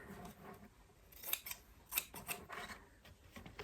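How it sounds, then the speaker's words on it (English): Scissors cut the end of a long fabric strip, a few close crisp snips with soft rubbing between them, quiet and with no talk. "I've got a long strip of fabric and I'm just going to cut the end"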